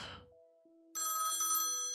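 Telephone in the video game Limbo Line ringing with a bright electronic bell burst, preceded by a short descending tone and a low held note, fairly loud and alone without speech.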